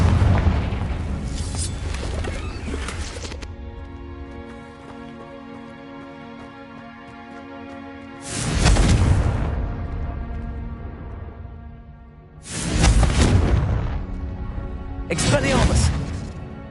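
Fire-blast spell explosions in the video game Hogwarts Legacy: a loud booming blast at the start, then three more heavy bursts later, with a ringing musical score between them.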